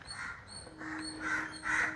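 A crow caws four times at a steady pace, moderately near and clear over a quiet outdoor background, with no talk.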